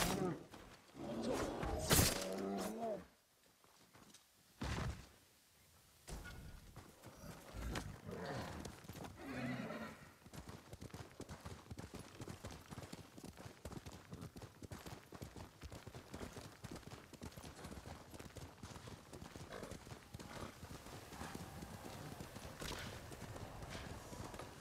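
In the game Ghost of Tsushima, a horse whinnies loudly early on, then steady clip-clop hoofbeats carry on at a trot, with game sound effects and occasional speech mixed in.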